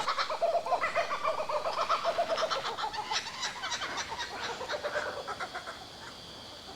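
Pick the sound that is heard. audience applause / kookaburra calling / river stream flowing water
kookaburra calling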